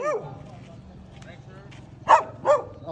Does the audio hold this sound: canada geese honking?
no